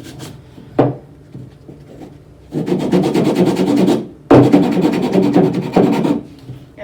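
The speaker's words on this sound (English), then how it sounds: "you just want to keep on sanding till these sides get kind of smooth" Sandpaper rubs against the wooden sides of a sculpture in bursts: one quick scrape, then two long stretches of rhythmic back-and-forth rasping, close and fairly loud.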